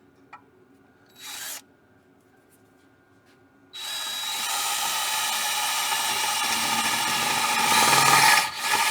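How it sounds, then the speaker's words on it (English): A power drill bores a hole during a 1981 Ford F100 truck build. A brief whir comes first, then a sustained, loud grinding whine that swells near the end before stopping. "we'll go ahead and drill it right where it's at"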